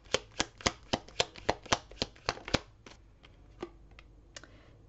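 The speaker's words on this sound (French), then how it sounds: "je vais tirer toutes les cartes" Tarot cards are shuffled and drawn, making a rapid, evenly spaced series of crisp card taps and flicks up close, which then thin out into a few scattered soft clicks.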